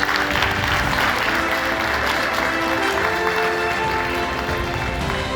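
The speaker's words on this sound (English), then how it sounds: "please give them another round of applause because they really deserve it" Sustained audience applause at a space-themed conference session, dense steady clapping from a large crowd filling the whole stretch without pause.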